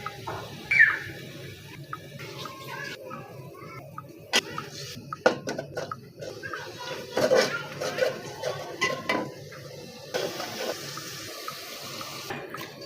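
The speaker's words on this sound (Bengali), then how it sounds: "আলুগুলা ধুয়ে নিতেছি।" Potatoes being washed in water: splashing and sloshing with clattering knocks of a pot or bowl, intermittent and close, with a run of faucet-like water toward the end.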